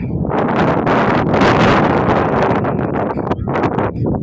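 Strong wind gusts across the microphone beside a large lake during a road trip from Thanjavur to Chennai. Loud, close, rumbling buffeting rises and falls in waves throughout, with no clear speech.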